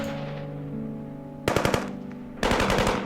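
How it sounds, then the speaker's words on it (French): Two loud bursts of rapid automatic gunfire used as a sound effect in a kaiju tabletop role-playing session, each a fast rattling volley separated by a brief lull over a low background drone. "Vous commencez à entendre les coups de feu"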